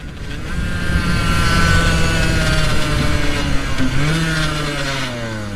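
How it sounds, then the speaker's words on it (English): A motorcycle engine idles with a steady low drone and a few higher overtones, then its pitch shifts upward near the end, with some wind noise mixed in. "Bike's idling good too."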